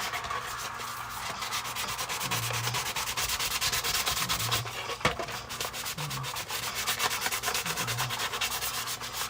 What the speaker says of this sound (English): Get it nice and sanded.